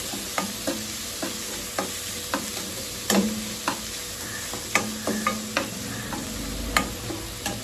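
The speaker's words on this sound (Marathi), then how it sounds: "कांदा गेला, त्याला व्यवस्थित ऑइल लागू दे, त्यामुळे व्यवस्थित मिक्स करून घेतो" Chopped onions stir and fry in oil, a soft continuous sizzle punctuated by regular sharp spoon taps and scrapes against the pan, close and clear with no speech.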